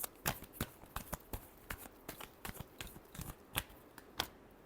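Tarot cards shuffled by hand in a series of crisp, riffling flicks and slaps at an uneven rhythm, close and fairly quiet, with no talking.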